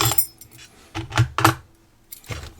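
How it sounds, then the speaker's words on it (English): Metal keys are shifted aside on a workbench while a padlock is being picked, a few close jangling clinks in short bursts with quiet gaps between. "Move those keys out of the way."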